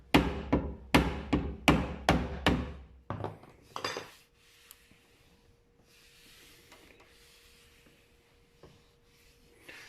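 Repeated hammer taps on a steel body panel of a classic Mini car, about eight sharp metallic knocks in a quick steady rhythm, close and clear, followed by quiet workshop background.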